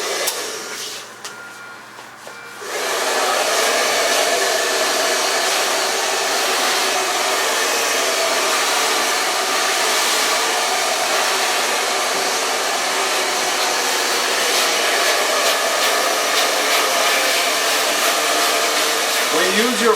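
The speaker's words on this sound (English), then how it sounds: "Use your blow dryer, you kind of keep it close, you know, you direct your air where you want it to be." Blow dryer drying a man's hair in a barbershop, a brief quieter start then a loud, steady, close whooshing roar that runs unbroken to the end.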